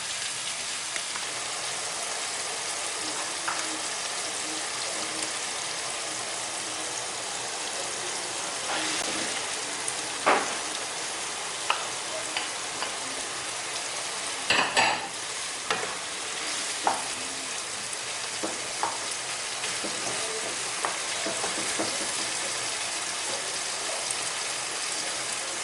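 Oil frying steadily for a turkey curry, a dense continuous sizzle with occasional sharper pops and crackles, no talking.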